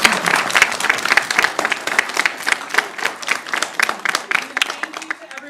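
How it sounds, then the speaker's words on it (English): An audience applauds a faculty and student life panel at a graduate admitted-students day, dense steady clapping from a crowd filling the room for the whole stretch, no voices over it. "Can we get a round of applause for our panel?"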